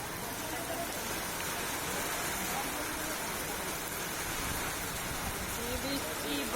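Heavy rain pours down during a storm, heard from a sheltered veranda as a dense, unbroken hiss of falling water, with faint voices mixed in.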